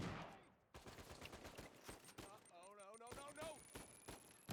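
Bursts of rapid gunfire in the Uncharted 4 video game, sharp repeated shots in quick volleys mixed with a game character's voice and other effects, fairly faint in the mix.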